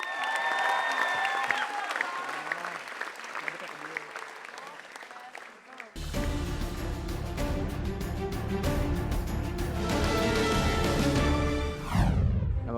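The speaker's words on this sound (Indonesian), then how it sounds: "Langsung aja tepuk tangan untuk Rian Adriandi." Studio audience applauds and cheers for comedian Rian Adriandi at a stand-up comedy competition, a steady loud wash of clapping with music swelling underneath in the second half and voices mixed in.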